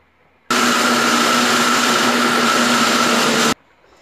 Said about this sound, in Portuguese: Agora vamos liquidificar.